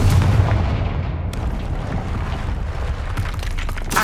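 A Confringo blasting curse detonates in Hogwarts Legacy, a loud booming blast with heavy low rumble that holds steady for a few seconds and then fades into a sustained roar.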